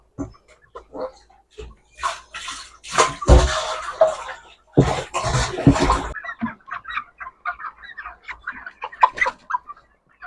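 Glucon-D glucose powder poured into a barrel of water at a poultry farm, two rushing bursts of pouring standing out over scattered nearby clucks and calls from chickens.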